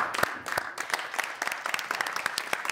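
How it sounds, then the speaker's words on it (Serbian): A studio audience claps through a stretch of applause on a Serbian TV entertainment show, dense irregular hand claps, fairly close and lively, with no talk over them. "Ovo je aplauz koji ste čuli"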